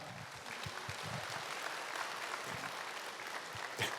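A church congregation claps at a Wednesday morning worship service, a steady, soft, distant wash of applause lasting throughout with a few low thumps underneath.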